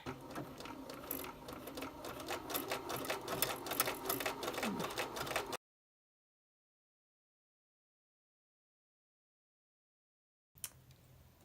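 A sewing machine stitches scallop edging on quilting cotton in a rapid, rhythmic run of about five seconds. It then stops for a long silence and briefly starts again near the end, with no speech.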